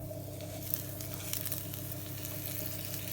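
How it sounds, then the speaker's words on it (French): Eggplant sears in a pan with a layer of very hot oil, a steady close crackling sizzle with scattered pops that holds for a few seconds over a faint low hum. "je vais commencer par saisir mes aubergines dans une poêle avec un fond d'huile"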